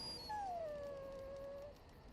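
A dog in the video game Dragon Age: Origins lets out a single drawn-out, falling whine that fades toward a howl over steady low background noise, with no talking.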